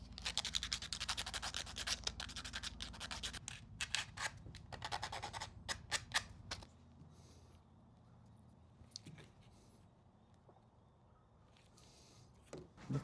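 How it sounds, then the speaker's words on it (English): Rough 80-grit sandpaper rubs a BMW E46 headlight bracket in rapid back-and-forth scratchy strokes, loud and close for about six seconds. Quieter handling noises follow. "Some sandpaper, 80 grit."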